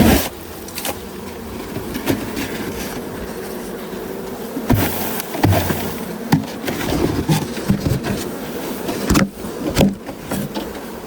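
Honey bees hum around a hive as a colony is moved from a six-frame box into a twelve-frame hive, their buzz mixed with bumps, scrapes and handling noises throughout.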